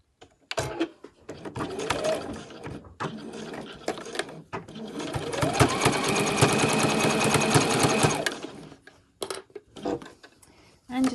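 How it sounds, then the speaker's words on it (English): Domestic sewing machine stitching fabric for a towelling head band, running in several bursts of fast rhythmic needle clatter, the longest near the middle, close and clear, with short pauses and small handling clicks between runs. "Off we go to the sewing machine."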